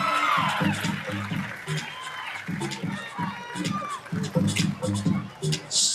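Crowd at a youth baseball all-star opening ceremony cheers, whoops and claps for a team of 6-year-olds, the noisy roar holding steady throughout with a public-address voice over it.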